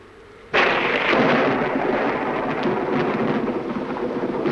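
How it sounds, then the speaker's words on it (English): Thunder from a thunderstorm cracks in suddenly and rolls on as a loud, broad rumble mixed with steady rain, filling the remaining seconds with no voices. "I love thunderstorms, don't you?"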